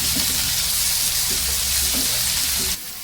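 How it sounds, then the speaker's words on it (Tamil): Onions frying golden in a pan for a wedding-style mochai bean and coconut poriyal, a loud dense continuous sizzle close by that drops off abruptly near the end. "வெங்காயமே இப்ப நல்லா பொன்னிறமா வதங்கிச்சுப்பா."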